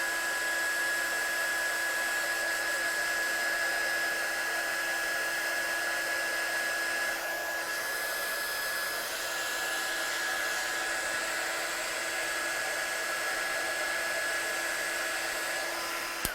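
A heat tool blows steadily over a freshly painted watercolour piece, a constant whirring hum with a faint high whine that holds unbroken throughout, close and alone.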